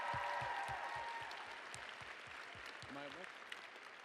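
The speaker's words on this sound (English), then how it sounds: "he deserves another round of applause from all of us for that" Audience applause for Trevor Mills at a BOM 2016 gathering, a dense wash of clapping filling the room and slowly thinning, with a voice briefly cutting in near the end.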